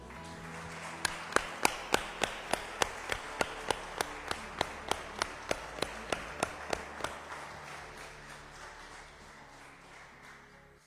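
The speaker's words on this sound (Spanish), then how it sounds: "Un aplauso para ella." Sharp, evenly spaced claps ring out one by one in a church during a memorial mass, about twenty in a steady rhythm before fading into quiet room tone.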